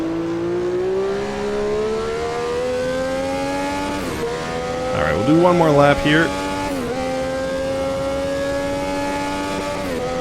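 A Brabham BT46B Formula 1 fan car, a classic F1 car driven in the racing game Automobilista 2, holds a steady, harmonic engine drone throughout, with a brief rising and falling rev change midway. Someone talks over it.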